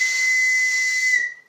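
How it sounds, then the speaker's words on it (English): A novelty wiener whistle from the Wienermobile gives one steady, shrill, breathy blast for over a second, with a clear single tone riding on airy hiss before it cuts off. "they gave us a wiener whistle, which was super cool and so cute"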